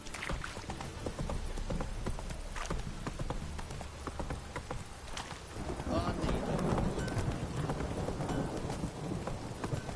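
Roach, Geralt's horse in The Witcher 3, clip-clops along in a steady hoof rhythm under game ambience that sounds like rain, with a person talking over it throughout.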